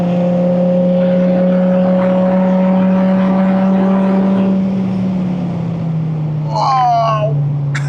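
A Dodge Viper SRT10 ACR-X engine drones loudly at speed on a race track, then its pitch sags as the throttle is lifted; a voice exclaims briefly near the end.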